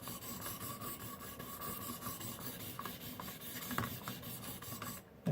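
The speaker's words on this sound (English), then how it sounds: "a lot of back and forth work here to get this going. Allows me to really test the diamond sharpening system here." Steady back-and-forth rasping of a CRKT Fire Spark knife blade drawn across a ViperSharp diamond sharpener, continuous and close, with repeated scraping strokes and no talking.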